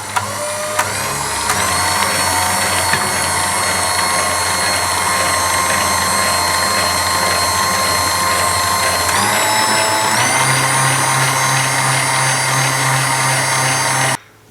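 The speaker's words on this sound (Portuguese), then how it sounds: "enquanto ponho novamente a batedeira a funcionar, eu vou juntando a manteiga em fio" An electric stand mixer beats eggs and sugar for a marble cake while butter is poured in, giving a loud, steady whirring drone whose pitch shifts up after starting and changes again around the ten-second mark before it abruptly stops.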